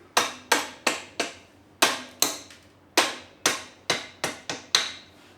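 Hammer taps drive parts into the suspension of a Honda CX500 motorcycle: about twelve sharp metallic knocks in irregular clusters, close and loud, with ringing decays between strikes.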